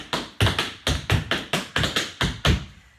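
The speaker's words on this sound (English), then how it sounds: "That's what gives them that real snappy, cool sound of a double treble." Rapid, crisp percussive taps on a hard floor in quick repeating clusters, like Irish dance double trebles, loud and close with no talking.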